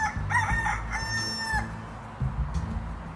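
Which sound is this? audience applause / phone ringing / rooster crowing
rooster crowing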